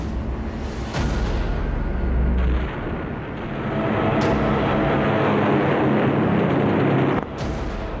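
Bombs striking the cargo ship Ikkoku in an air attack, heard as a series of loud, deep booming blasts with long rumbling tails, three or four sharp onsets spread over the stretch.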